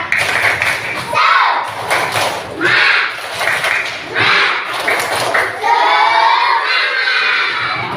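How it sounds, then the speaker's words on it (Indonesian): Classroom group performing a rhythmic spirit clap, loud bursts of clapping in a patterned beat, mixed with thumps and children's voices chanting along. "Oke, coba tepuk semangat dulu. Tepuk semangat."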